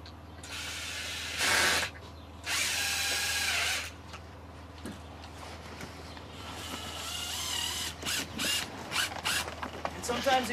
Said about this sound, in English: Mike, how'd you know there was a tie there that you can screw into?